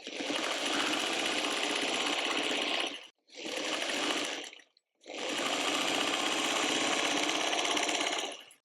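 A sewing machine runs in three steady bursts, a long stitching run, a brief one and another long run, with short pauses between, as quilt block pieces for a tulip block are sewn together; close and even-toned.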